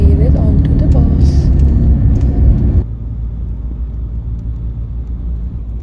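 A bus rumbles along a road in Hurghada, Egypt, its low engine drone loud and close, with voices and cabin noise over it before the sound drops to a quieter steady hum.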